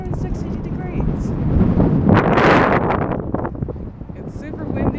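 Strong wind gusts roar across the microphone outdoors amid wildfires on a hot day, loud and continuous with rising bursts, while a person talks over it.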